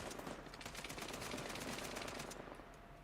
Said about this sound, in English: one-hand firing and reloading an AK-47 is crazy